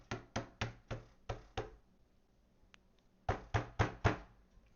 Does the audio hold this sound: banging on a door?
yes